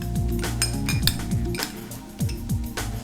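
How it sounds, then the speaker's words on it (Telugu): A spoon scrapes and clinks against a metal pan as ginger garlic paste is stirred into fried onions. The clatter comes in repeated bursts and metallic knocks, close and fairly loud, with no talk over it. "సో అల్లం వెల్లుల్లి పచ్చివాసన పోయే వరకు కలుపుకుందాం"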